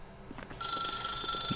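A telephone rings in the video game The Stanley Parable, a steady electronic bell tone sustained at moderate loudness and heard alone, with no talking.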